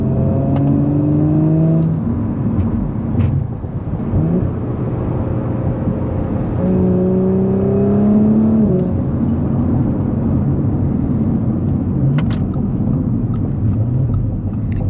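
A stage 2 Audi S4's engine rumbles steadily nearby, its pitch rising and falling as it revs and accelerates, with a continuous low exhaust drone.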